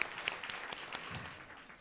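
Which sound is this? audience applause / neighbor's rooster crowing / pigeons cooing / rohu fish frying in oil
audience applause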